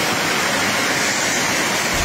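Floodwater from Typhoon Kristine rushing through a flooded residential area, a dense continuous roar of churning water, loud and steady throughout with no voices over it.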